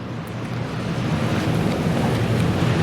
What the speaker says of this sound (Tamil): பாருங்கள் இன்னும் மழை விடல